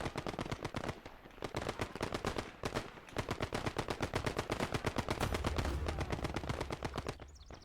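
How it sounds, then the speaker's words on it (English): Rapid machine-gun bursts from Gates of Hell Ostfront, a World War II game, fire in long, dense strings of shots, loud and close, broken by brief pauses between bursts. "So you'll see my machine gun putting in some work."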